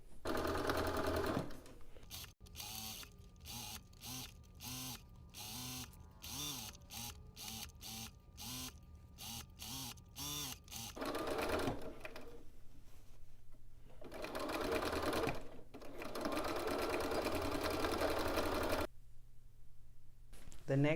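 A sewing machine stitches a facing on a garment, running in quick repeated bursts with short pauses between them, followed by a longer steady stretch of stitching, close and fairly loud.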